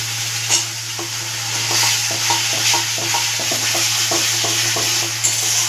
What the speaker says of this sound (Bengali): এবার আমি 4-5টা কাঁচা লঙ্কা চিড়ে রেখেছি, এটা দিয়ে দেবো।